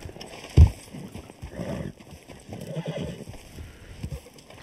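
A horse in the game RedM (Red Dead) gives one sharp, loud whinny near the start, followed by soft clip-clopping hooves that carry on steadily through the rest of the moment.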